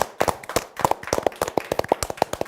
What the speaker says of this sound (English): Can we get a major round of applause for that oldie?